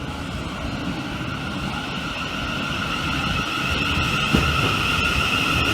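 A Great Northern train passes through Essex Road station with a steady rolling rumble and faint high-pitched whine that grows slightly louder, ending with a brief clank.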